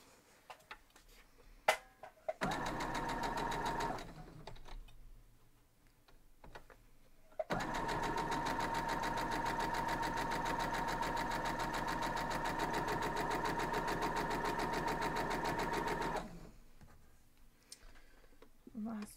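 A sewing machine stitching small quilt block pieces runs in two bursts of rapid, even mechanical ticking, a short run and then a longer one of about nine seconds, with quiet handling noises in between.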